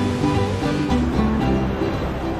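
A powerful waterfall in Laos, swollen in the rainy season, gives a dense, steady roar of rushing water with some low tonal sounds over it.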